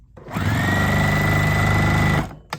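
A Juki TL sewing machine runs in one close, loud, steady burst, ramping up quickly, humming with a fast rhythmic needle clatter, then winding down and stopping with a click.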